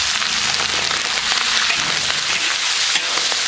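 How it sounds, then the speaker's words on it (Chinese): Beef tripe stir-fried in smoking-hot oil with cinnamon bark and ginger, a loud steady sizzle with scraping stirring strokes, close and continuous without talk. "先炒一下啊"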